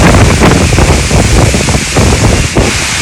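Hurricane Ida's 50-knot wind blasts across a canal near the Orleans-Jefferson line, a loud, roaring, buffeting rush that pummels the microphone continuously with gusty surges and no speech.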